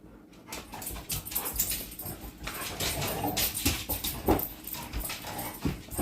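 Zuma the dog whimpers and pants close by in a busy room, soft whines and snuffles rising and falling over several seconds with household movement around her.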